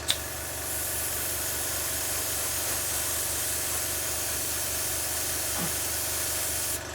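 A 0.5mm airbrush spraying paint gives a close, steady airy hiss over a low compressor hum for several seconds, starting after a brief click and ending with a quick burst.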